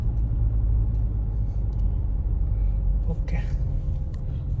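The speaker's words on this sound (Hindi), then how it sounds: "थोड़ा सा गाड़ी का साउंड पता चले कि किस तरह का साउंड आ रहा है गाड़ी में" A Mahindra Scorpio engine with an abnormal tapping fault idles in a steady, loud low rumble, heard close with faint higher clicks and a brief shift partway through.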